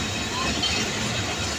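A train at Cantt railway station at night gives a steady, loud rumble with rail noise and a hissing wash, continuous throughout with no clear breaks.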